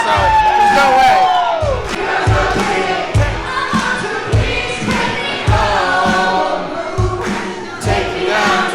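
A large crowd at Cedar Point's Halloweekends cheers and roars continuously. Rhythmic heavy thumps and music run beneath the shouting throughout.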